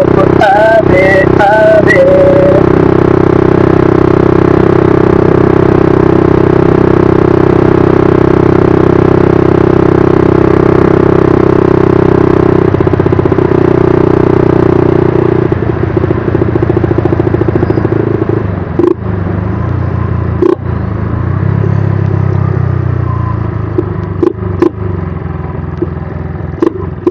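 A motorcycle engine runs loud and close with a steady drone, then the tone shifts as the rider pulls away, with a few clattering knocks near the end.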